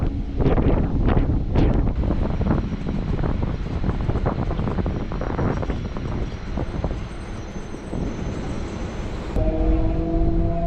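A suburban train entering Pattabiram railway station near Chennai rumbles and clatters steadily with wind buffeting the microphone, then a brief tonal hum near the end as it rolls along.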